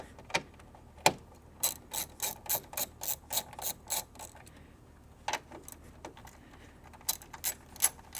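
A ratchet wrench with a 10 mm socket loosens the coolant reservoir bolts on a Chevrolet Sonic, giving close, crisp bursts of clicking in short runs with brief pauses between them.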